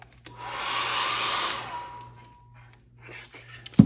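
A heat tool drying an art journal page blows with a steady close whoosh for about two seconds, then fades out, followed by faint rustling and a sharp knock at the end.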